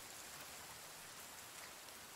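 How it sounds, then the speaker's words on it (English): Steady rain falls in the survival video game The Forest, an even, faint hiss of dense drops with no pauses or other sounds. "We gotta wait for rain to go away."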